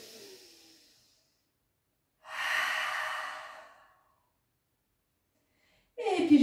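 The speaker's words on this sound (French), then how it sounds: "J'inspire par le nez. J'expire par la bouche." Slow yoga breathing during a downward dog pose: a soft breath, a long, fairly close exhale through the mouth and a fresh inhale starting, separated by stretches of silence.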